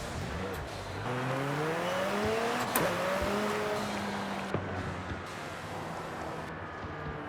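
Car engine revving in the racing game Forza Horizon 5, rising and falling pitch sweeps with a sharp gear-change burst, loud and continuous with a tire-squeal edge, a voice faintly under it.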